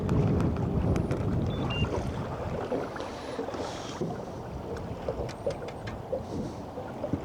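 Gusty wind buffets the microphone in a steady, close, low rumble while someone fishes outdoors on open water, with faint splashes and knocks underneath.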